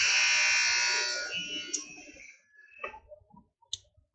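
A roller derby game buzzer blares loud and harsh for about a second, then fades out, leaving a few scattered clicks and thumps behind it.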